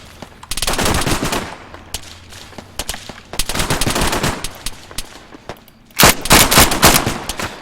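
Bursts of automatic machine gun fire in the Arma 3 military game, rapid rattling volleys in three loud clusters separated by brief lulls, with the last burst the sharpest and loudest.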